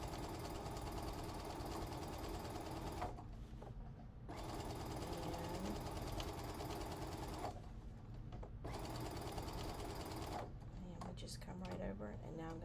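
A sewing machine stitches the leg seam of a child's shorts made from a man's shirt, running in several close, continuous bursts separated by brief pauses, with a voice talking over it.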